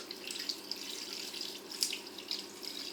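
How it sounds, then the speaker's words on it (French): Water running from a tap into a pot for coq au vin, a steady soft hiss and splash with faint bubbling, close by and without speech. "on va compléter avec de l'eau jusqu'à ce que"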